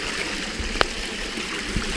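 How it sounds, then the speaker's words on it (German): Water of a mountain stream in the Bavarian highlands rushes steadily downhill in a continuous, close, broadband roar with no voices. "und das Wasser schießt hier runter, direkt runter den Bach"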